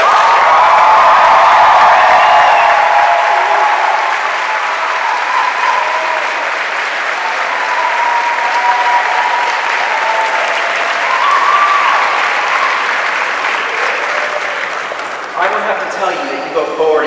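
A large commencement crowd at a 2012 university graduation cheers and applauds loudly and continuously, a broad sustained roar of clapping and shouts that thins out near the end.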